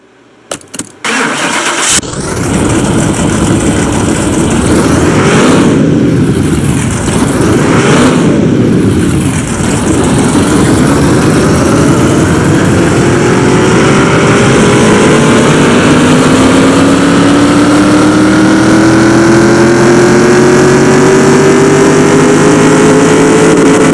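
A 1000HP HEMI-swapped Corvette C3 fires up on a dyno in Car Mechanic Simulator 2021, a loud, close engine revving through several surges, then holding a sustained climbing roar with rising pitch.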